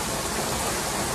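Rain falling on a boat in a mooring field, a dense, even hiss of drops pattering across the deck and water, steady and unbroken throughout.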